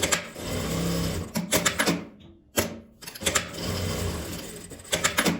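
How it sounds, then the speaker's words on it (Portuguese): A sewing machine stitching a fabric pouch, fast steady whirring runs in several bursts with short stops and a near-silent gap in the middle, close and loud. "Eu vou costurar primeiro a parte de baixo e deixar uma abertura para desvirar."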